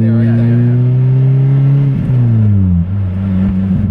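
A Lotus Exige S pulls hard under acceleration, its engine note rising steadily in loud, close harmonic tones with a brief gear-change dip before climbing again, exhaust noise prominent throughout.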